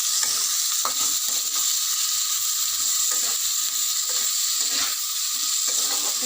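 Meat curry (mangsher jhol) cooks in a pan, giving a steady, fairly loud sizzle with scattered scrapes and clicks of stirring throughout, no voices.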